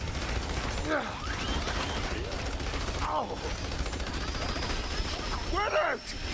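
Bursts of freeze-effect gunfire in the video game Battleborn, rapid mechanical rattling volleys with whooshing sweeps, set against a busy game soundscape.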